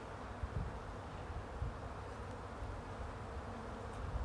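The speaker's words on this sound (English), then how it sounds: "Look at those packed bees." Honey bees in an open, packed spring hive hum as a dense, continuous buzz of many wings, close and moderately quiet, with occasional louder individual fly-bys.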